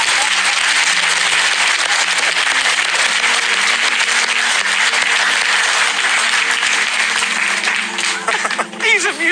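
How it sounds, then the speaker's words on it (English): Studio audience applause on a TV game show, loud and sustained for about eight seconds before thinning and breaking up near the end, with voices faintly underneath. "Round of applause."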